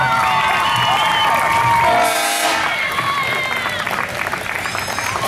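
Applause and cheers from a parade crowd greeting the Extreme Cheer All-Stars, a continuous busy clapping roar with occasional whoops, close and fairly loud, easing slightly toward the end.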